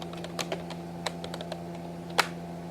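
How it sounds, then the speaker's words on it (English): Quick taps on a computer keyboard during an app demonstration, a sparse run of light clicks with one sharper keystroke near the end, close and alone over a steady electrical hum. "So I can type study hard"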